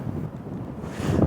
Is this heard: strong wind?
yes